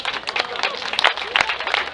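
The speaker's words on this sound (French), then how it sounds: "vous pouvez l'applaudir" An audience applauds a young cyclist at a prize ceremony for the 2008 Pentecost Grand Prix bike race in Moncontour, a steady dense patter of many hands with a voice speaking over it.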